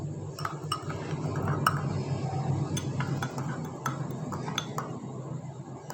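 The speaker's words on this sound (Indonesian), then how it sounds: "Kita aduk sedikit." Metal spoon stirring dissolved vitamin C in a glass during a chemistry reaction-rate experiment, giving repeated light clinks against the glass over a steady background hum, close and fairly quiet.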